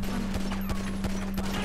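Grand Theft Auto V gunfire crackles in a rapid run of sharp, evenly spaced shots over a constant low electronic hum, close and fairly loud.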